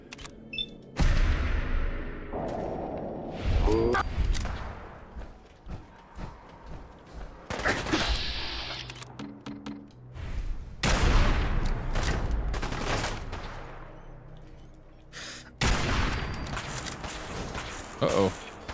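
Loud rocket launches and explosive blasts in Fallout 4 with the Sim Settlements 2 mod, several heavy bursts with ringing decays and mechanical clatter spread over the stretch, close and booming amid game ambience.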